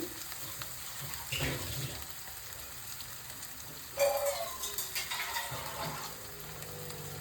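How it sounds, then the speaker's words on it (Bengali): Steady frying sizzle of paneer koftas in a pan, with a few louder bursts of stirring and scraping around the middle, no voices. "দেখো এটা আমি যত একটু ভাজা ভাজা করে নিলাম।"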